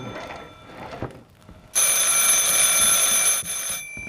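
A telephone rings indoors, loud and close, its bright electronic tone holding steadily for nearly two seconds after faint room noise.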